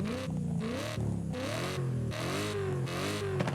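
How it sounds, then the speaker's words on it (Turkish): A deep, throaty V8 engine of a modified 2005 BMW M3 in Forza Horizon 5 revs repeatedly, its pitch rising and falling in loud sweeps with brief gear-change dips, close and continuous. "ses hoşuma gitti ya şu ses V8"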